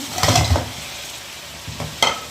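Boiled chickpeas with chicken cooking in a pan over low heat, stirred with a few scraping, sizzling bursts and quieter gaps between them.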